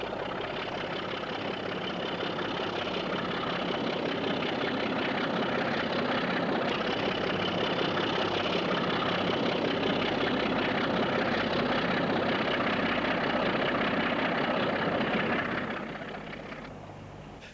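A British Rail Class 27 diesel locomotive with a GEC power unit rumbles steadily at idle, a loud continuous engine drone that swells slightly before easing off near the end.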